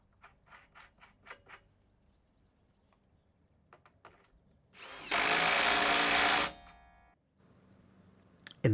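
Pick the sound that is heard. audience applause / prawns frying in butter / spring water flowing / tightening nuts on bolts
tightening nuts on bolts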